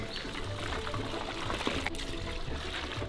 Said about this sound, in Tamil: அது கூடவே தண்ணி ஊற்றிக்கலாம்.